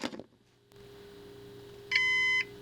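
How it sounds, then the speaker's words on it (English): A Synology DS1513+ NAS unit gives a single short electronic beep on power-up after a no-power, no-boot repair, clear and close over a low fan hum, following a brief handling clatter. "I heard the unit just beeped"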